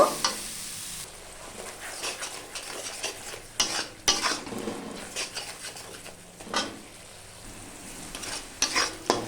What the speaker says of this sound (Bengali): অল্প পরিমাণে গরম জল দিয়ে আমি সমস্ত মশলা কষিয়ে নেব